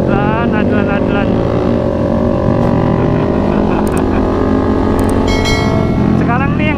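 Motorcycles ride at night in Bogor traffic, including a red Ninja, with loud, close engine drone and repeated revving pitch sweeps throughout, plus a passing horn or whine near the end, while riders talk over it.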